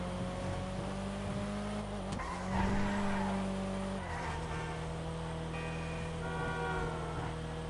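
Paul Walker's R34 GT-R in GTA 5 drifting, tyres skidding and squealing against a steady engine drone, with a louder swell of skid noise midway; no talk.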